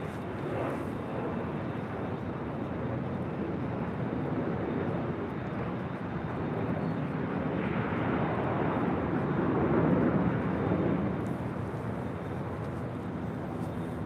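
An American Airlines Boeing 737-800 departs LAX for Phoenix, its jet engines making a broad, distant rumble and roar that holds steady and swells slightly toward the end.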